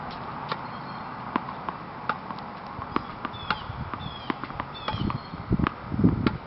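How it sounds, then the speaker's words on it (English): Tennis ball tossed onto a racket and bouncing off it during volley practice, heard as a series of sharp, light impact clicks spaced irregularly through the clip, moderately close, with a busier cluster of hits near the end. "I'm going to toss the ball right at your racket. It's going to bounce off your racket and just feel it."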